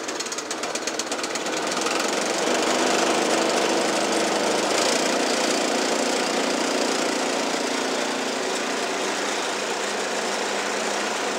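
A snow blower engine running close and loud, a dense, rattling buzz that starts after a quiet moment and holds steady throughout, with no talking.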